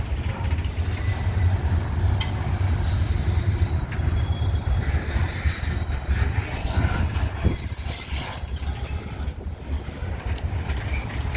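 A long BNSF freight train of auto rack cars rumbles steadily past close by in Minneapolis, wheels squealing in thin high whines over the low rolling drone of the cars.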